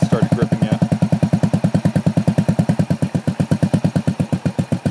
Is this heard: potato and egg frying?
no